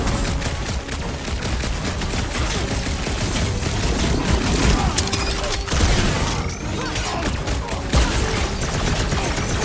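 A fireworks attack in the Guardians of the Galaxy video game sets off a dense, continuous barrage of rapid crackling explosions and bangs, loud and unbroken throughout, with clanking mechanical noise mixed in.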